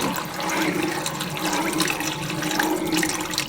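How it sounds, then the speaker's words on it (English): Beef broth pours into a pan of steak and gravy: a continuous, close splashing liquid stream that lasts throughout, with no speech. "I am gonna add a little bit more beef broth because I want a lot"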